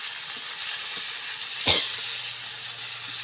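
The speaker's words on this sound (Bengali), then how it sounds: "তো যে এখন পেঁয়াজগুলি ভাইজে নেই" Onions frying in a pan, giving a steady bright sizzle that runs unbroken throughout, with a brief stir or clatter near the middle and no voices.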